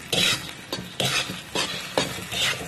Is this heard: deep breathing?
no